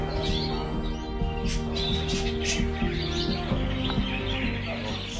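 A caged goldfinch in a home in Boumerdès, Algeria sings loud, rapid twittering phrases with sharp chirps, while a steady low hum runs underneath.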